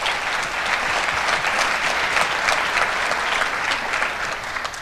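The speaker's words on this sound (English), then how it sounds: "give yourselves a round of applause" Steady, dense applause from an audience at a sports awards ceremony, continuous clapping throughout with no talk over it, tapering slightly at the end.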